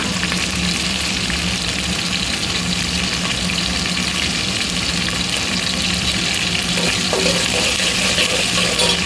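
Green chillies and curry leaves fry in hot oil in a pan for poha, a loud, close, continuous sizzle with occasional stirring scrapes and no talking.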